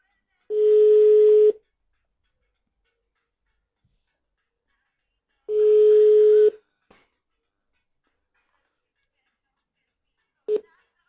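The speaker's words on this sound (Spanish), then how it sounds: "ya le vamos a marcar a Karen" A steady telephone ringback tone sounds in two long one-second rings several seconds apart, followed by a brief click and a short beep near the end, with silence between.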